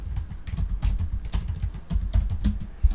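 Quick, irregular clicking of keys on a computer keyboard as a short name is typed, close and clear, with bursts of keystrokes and brief pauses and no talking.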